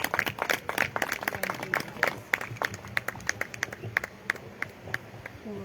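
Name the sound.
congregation clapping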